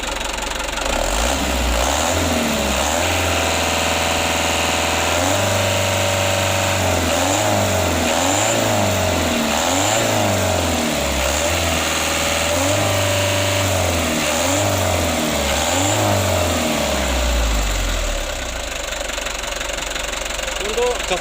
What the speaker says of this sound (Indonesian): Kita coba gas dulu mas bro.